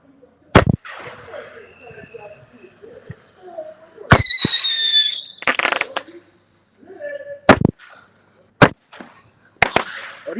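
Fireworks in a backyard fireworks battle, sharp close bangs scattered across the stretch, a whistling rocket streak, and crackling bursts, with people shouting and talking between the explosions.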